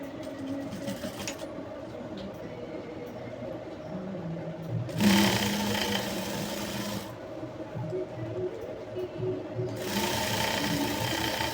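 A sewing machine stitches a jumpsuit seam with a one-inch margin, its motor running in a steady drone interrupted by two bursts of faster, louder stitching, close and with no talk.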